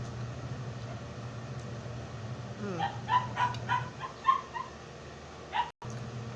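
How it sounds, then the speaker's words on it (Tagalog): A dog makes a short series of yips and whimpering barks over a steady low hum, fairly close, with no one talking. "Ayan ang aso."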